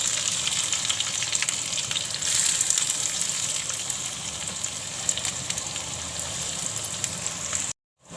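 Onion and garlic frying in hot oil, a steady loud sizzle with crackling that runs evenly throughout before cutting off abruptly at the very end.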